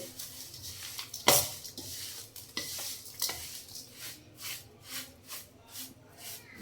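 Spoon stirring and mixing a thick, oily batch of homemade mixed pickle (achar) in a pot. The scraping strokes are close and fairly quiet, with rhythmic swishes and a few sharper clinks against the pot.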